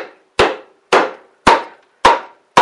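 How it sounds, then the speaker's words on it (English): Five sharp, evenly spaced knocks, each ringing briefly before a short silence, as a wooden hammer handle strikes a seized piston in a 5 horsepower Briggs & Stratton engine; close and loud with no talk. "I'm going to try this wooden handle here and hit it."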